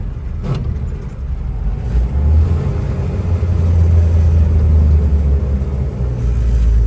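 A 1959 Willys Jeep Wagon with a four-cylinder engine drives along, its steady low engine rumble and road noise holding up close and loud throughout, swelling slightly midway as it pulls through the gears.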